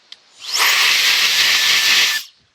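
A TurboJet electric air blower blasting wood dust and shavings out of a lid, a loud steady rushing hiss that swells up quickly, holds for about a second and a half, then cuts off.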